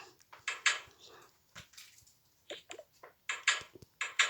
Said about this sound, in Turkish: Tencereme de şuraya alıp koyayım en iyisi